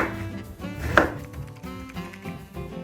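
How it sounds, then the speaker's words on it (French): Knife chopping an aubergine on a cutting board, a string of quick, close taps with one sharper knock near the middle, alone without speech. "on découpe l'aubergine"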